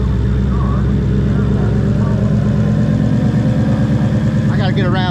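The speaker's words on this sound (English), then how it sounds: "A running Whipple supercharged Coyote" Whipple supercharged Coyote V8 running in a Ford Focus, a loud, steady, throbbing idle with a rough low pulse close by, and a brief whine rising near the end.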